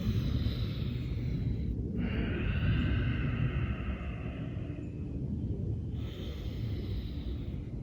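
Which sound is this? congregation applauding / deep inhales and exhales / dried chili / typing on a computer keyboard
deep inhales and exhales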